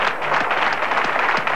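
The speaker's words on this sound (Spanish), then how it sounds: "Yo quiero pedir un aplauso fuerte para él." Crowd applause on a Spanish television show, celebrating a world record attempt; dense, steady clapping fills the whole moment at close range with no talking over it.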